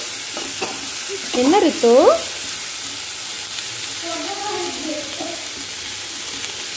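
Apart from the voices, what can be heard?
mushrooms sautéing in butter or oil in a pan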